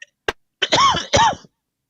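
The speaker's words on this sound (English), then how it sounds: "I was coughing." One person coughs twice in close succession after a brief throat click, harsh and loud near the microphone, then silence.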